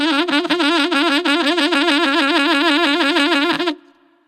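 A saxophone plays a great shake, rapidly alternating between G and the harmonic below in a fast, even wobble, loud and alone for about three and a half seconds before cutting off.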